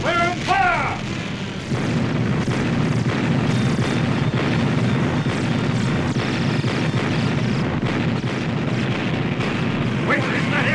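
Jet aircraft attack effects in an old-time radio drama about Godzilla and an alien invasion: a loud, unbroken roaring rumble with heavy blasts, mixed under voices throughout.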